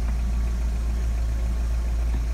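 A Mazda Bongo Friendee engine idles at a steady, low rumble, constant and close throughout with no other sounds on top.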